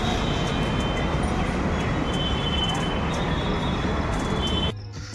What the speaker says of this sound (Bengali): তো বন্ধুরা, আমাদের মেট্রো চলে এসছে